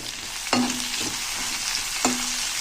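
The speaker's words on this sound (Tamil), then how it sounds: "வெட்டி வச்சுக்கிற வெங்காயத்தை இதில் சேர்த்துடுறேன்." Onions sauté with garlic in a pan in a steady, close sizzle, broken twice by sharp scraping clanks of a spoon stirring against the metal.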